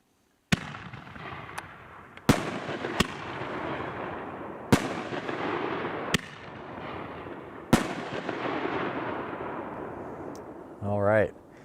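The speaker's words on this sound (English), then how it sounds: "Here comes a little 3-shot volley for you of Neon Predator." A Neon Predator consumer firework volley at an outdoor demo night, with several sharp loud launch reports spaced a second or two apart, each followed by a crackling decaying tail, and a brief whistling effect at the end.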